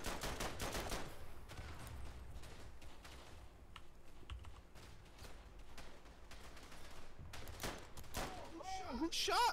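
Rapid gunfire from a trench-warfare shooter set in World War I, firing in bursts and volleys throughout, close and loud, with ringing metallic shots near the end and voices talking over it.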